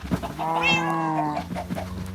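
Cats meowing in Minecraft, a drawn-out, wavering meow with a second cry following close behind, loud and alone.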